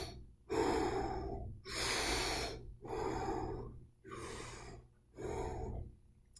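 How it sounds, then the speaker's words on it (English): A person demonstrates deep abdominal breathing as an asthma technique, drawing five long, audible breaths in close succession, each a rushing inhale or exhale separated by short pauses. "What's supposed to happen is it should be a deep abdominal breath."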